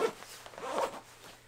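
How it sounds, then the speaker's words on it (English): A side zipper on a FlyLow Baker ski bib being done up, a quick, close rasping zip lasting about a second, heard alone. "I'm gonna do up the zipper on the side."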